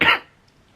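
A single loud, close cough caused by lisinopril blood pressure medication, a short harsh burst followed by near silence and a faint breath at the end.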